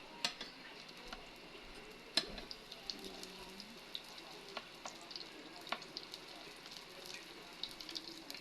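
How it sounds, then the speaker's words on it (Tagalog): Lumpia Shanghai spring rolls frying in hot oil in a home kitchen, a steady soft sizzle with scattered pops and crackles throughout, fairly faint and close. "Prito na tayo ng lumpia."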